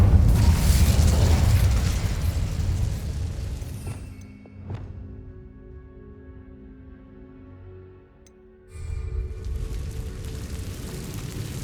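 A loud, roaring fire-spell blast from Hogwarts Legacy opens the scene, then cuts to a quieter hum with a sharp crack before a second surge of roaring sound returns.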